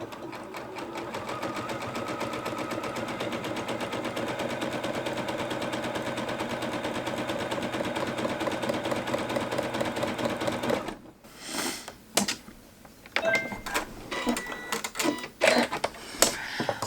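A sewing machine stitches applique fabric in a rapid, steady mechanical rattle, then stops, followed by scattered short bursts of stitching and handling noises.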